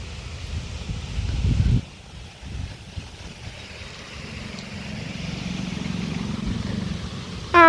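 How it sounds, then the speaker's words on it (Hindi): Cool wind blowing outdoors, a steady broad rush and rumble against the microphone that swells and eases over several seconds, with a brief louder gust near the start. "आज जाके हवा, ठंडी ठंडी हवा चल रही है।"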